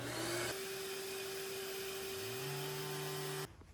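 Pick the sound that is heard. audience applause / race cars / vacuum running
vacuum running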